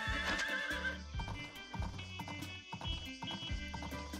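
Horse in the video game Story of Seasons: Pioneers of Olive Town, a loud whinny at the start followed by a steady rhythmic clip-clop of galloping hooves, close and prominent.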